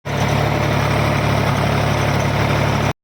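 Eicher 485 tractor driving an 8-foot rotavator in a field, a loud, steady engine drone with a low throbbing hum, continuous and close, with no talk.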